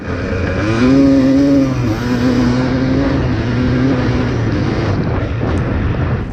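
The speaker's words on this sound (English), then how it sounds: "bike seems to be running great now" A two-stroke dirt bike engine, recently rejetted after running rich, idles and revs steadily up close, its loud buzzing drone swelling and easing over several seconds with no talking.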